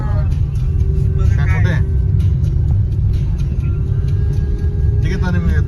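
A loaded car driving on the road, heard as a steady low rumble of engine and road noise from inside, with people talking over it now and then.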